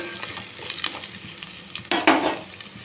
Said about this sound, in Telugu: చూడండి ఇలా లైట్ బ్రౌన్ వచ్చే వరకు అయితే వేయించుకోవాలి.